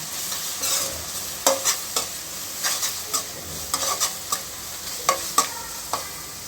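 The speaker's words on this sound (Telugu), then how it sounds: "ఇదంతా కాసేపు వేయించుకోండి" A spicy masala with sauce fries in a pan for rice vermicelli noodles, a steady sizzle broken by frequent scraping stirs and spatula knocks, close and clear, with no talking.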